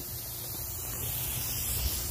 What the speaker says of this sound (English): It's literally spraying right across our path.